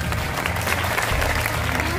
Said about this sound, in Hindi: तो बजाओ ताली करके।